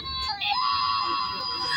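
A squeeze toy that screams when pulled lets out a shrill, wailing shriek that briefly dips, then holds a long sustained squeal, loud and close.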